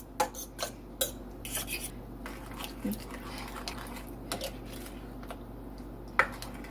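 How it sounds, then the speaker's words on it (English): A spoon stirs brown gravy mix with Worcestershire sauce in a crockpot, giving intermittent clinks and scrapes against the pot at uneven intervals, fairly faint over a low steady hum. "I'm going to add a pack of brown gravy. I'm going to mix that in."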